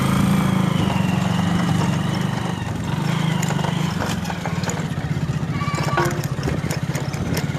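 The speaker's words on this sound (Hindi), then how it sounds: "मोहन जी, बाइक चलाते हुए डर लग रहा होगा आपको?" Motorcycle engine on a rural village road in Bihar, a continuous close, rattling putter while riding, steady throughout with some wind and road noise, no talk.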